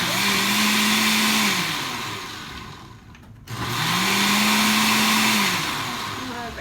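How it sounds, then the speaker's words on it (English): A blender chops homemade Mexican salsa with cilantro in two loud bursts of whirring motor, each rising in pitch then winding down, separated by a brief near-silent pause, close and without voices. "So let's go ahead and blend it."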